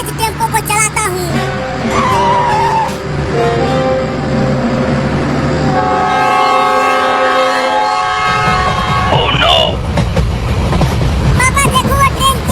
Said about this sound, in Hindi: पापा देखो वो ट्रेन चलने लगी